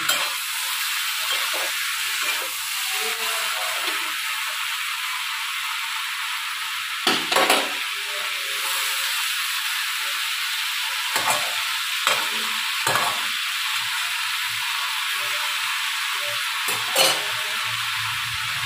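Paneer fries in a pan with a steady, close sizzle and hiss, broken every few seconds by scraping stir strokes, with no voices.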